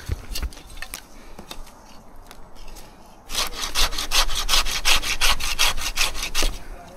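A hand pruning saw cuts through a mature fir branch, with a few scattered strokes followed by a quick, steady run of loud rhythmic rasping back-and-forth strokes close by.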